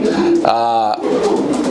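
Racing pigeons coo inside a loft, with one clear, loud, close call of about half a second. A voice speaks before and after it.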